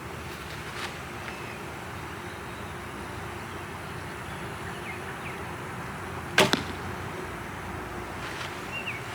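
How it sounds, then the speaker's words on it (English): An arrow fired from a lightweight 40-pound Supercurve bow through a chronograph gives a single sharp snap and whoosh midway through an otherwise quiet outdoor scene with soft background hiss. "let's shoot it through the chronograph and see what kind of numbers we get"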